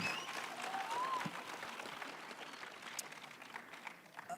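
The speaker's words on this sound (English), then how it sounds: "Yeah, round of applause." Faint applause from a conference audience at a weather-sector event, steady light clapping that thins gradually over a few seconds.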